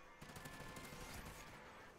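Rapid automatic gunfire from the video game Call of Duty Ghosts rattles in dense, continuous bursts, loud and close, with no speech over it.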